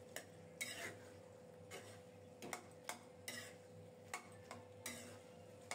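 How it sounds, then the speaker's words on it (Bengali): A spoon stirs and breaks up bottle gourd curry in a pot, scraping and tapping against the metal in a slow, irregular series of soft knocks over a quiet kitchen background. "এবার চামচ দিয়ে নেড়ে ছেড়ে একটু ভেঙে দেওয়ার চেষ্টা করব।"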